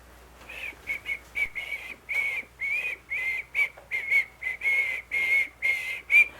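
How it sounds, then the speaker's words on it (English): A person whistles a tune alone: a steady run of short, clear notes separated by brief gaps, moderately loud and close. "going slower and slower, and whistling like this"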